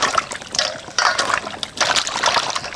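Water splashes and trickles in short bursts as taro is rinsed clean by hand, the pours coming in three or four uneven surges, close and fairly clear.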